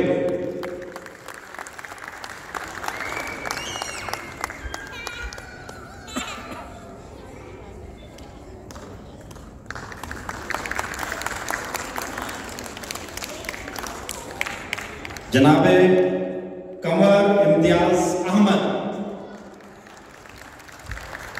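Audience applause at a Pakistan Day ceremony runs under an announcer's amplified voice, building into louder bursts of clapping and cheering near the end before easing off.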